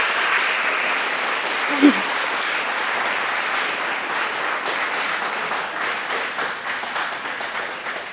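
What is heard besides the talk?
audience applause after a senior presentation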